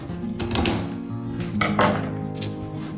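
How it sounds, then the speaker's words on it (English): Scissors cut angles into cardboard for a homemade Christmas tree collar box, giving a few crisp, close snips and crunches in quick, uneven succession. "I'm just going to use a scissors"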